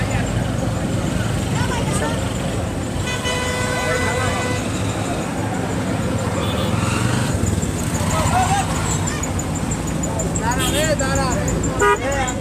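Car and bus horns toot repeatedly in a jammed road crowded with people, short honks overlapping amid rumbling traffic and constant chatter and voices nearby.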